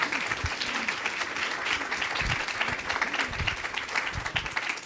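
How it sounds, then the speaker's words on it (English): An audience in a main conference room gives two presenters a hand, sustained, lively clapping with individual claps standing out near the front, at moderate loudness and steady for the whole span. "Applause."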